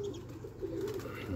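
Soft, low pigeon cooing close by, a continuous throaty warble over a brief moment.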